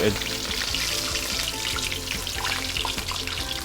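Fish head frying in oil, being lifted out for a braised fish head and tofu stew, a loud, close, busy sizzle with crackling pops and repeated clinks, music running underneath.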